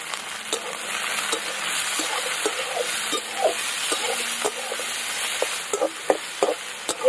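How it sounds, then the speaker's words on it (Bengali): Garlic, onion and capsicum fry in a pan for chili soya, giving a steady close sizzle broken by repeated scraping stir strokes that grow sharper toward the end. "প্রথমে একটু হালকা ফ্রাই করে নেব"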